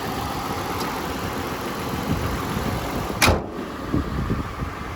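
A 2013 Toyota FJ Cruiser engine idles in a steady, even hum, close and moderately loud, with a brief sharp click or knock partway through and no voices.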